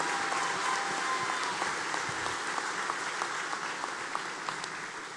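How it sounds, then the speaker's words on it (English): Steady, full applause from a large crowd at a high school graduation ceremony for the class of 2025, a continuous wash of clapping with a few sharper individual claps standing out near the front. "one last round of applause for the class of"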